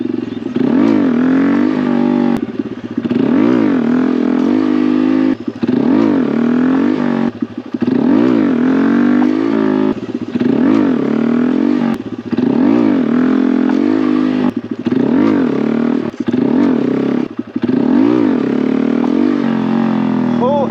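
A Honda Grom motorcycle revs hard in repeated bursts during clutch-drop wheelie attempts, loud and close, with the engine climbing and dropping in pitch about every two seconds and brief gaps between pulls.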